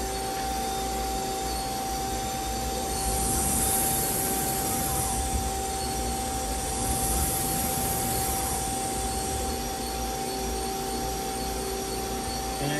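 A Nakamura WT250II CNC turning center runs its main spindle, giving a steady, loud mechanical whine with a constant high tone over broad machine hum. It swells slightly partway through, and no one talks.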